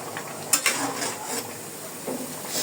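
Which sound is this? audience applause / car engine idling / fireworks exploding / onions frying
onions frying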